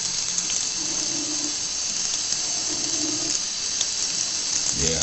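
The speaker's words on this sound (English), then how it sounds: "The water's coming out soft. Yeah, it's nice. Like a waterfall." Soft tap water runs over a pet dove during a bath, an even, steady hiss of flowing water close by, unbroken for several seconds.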